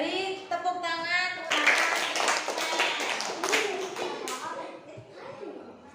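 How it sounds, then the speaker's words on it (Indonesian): A classroom of children claps in applause for a correct answer, a dense patter of hands that swells after a brief pause, mixed with excited young voices chattering throughout. "Beri tepuk tangan"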